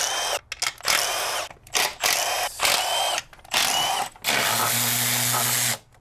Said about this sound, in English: We need to unbolt it and just pull it back a little